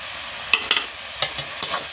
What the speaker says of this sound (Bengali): নারকেল কুড়া দিয়েও একটু নেড়ে নেব